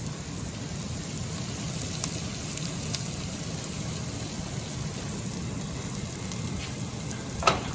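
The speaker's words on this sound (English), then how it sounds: "Then our sliced mushrooms. Just let those cook nice and gently in there." Sliced mushrooms cooking gently in a pan for chicken chasseur produce a soft, continuous close sizzle with faint crackles and a small clink near the end, and no one speaks.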